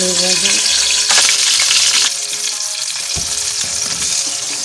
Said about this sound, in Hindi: ये मैंने एक तरफ से फ्राई कर दी है, अब मैं इनको दूसरी तरफ से जो है फ्राई कर रही हूँ